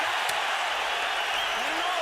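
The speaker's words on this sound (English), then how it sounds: "Listen to this crowd music." Boxing arena crowd roaring and cheering during a professional bout, a steady loud wash of many voices close and continuous throughout.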